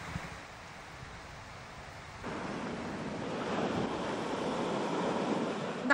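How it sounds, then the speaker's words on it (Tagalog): High surf pounds the Pagudpud coast in Ilocos Norte in bad weather, a steady roar of breaking waves and gusting wind buffeting the microphone that swells louder partway through. "Mataas pa rin kasi ang mga alon dahil sa masamang panahon."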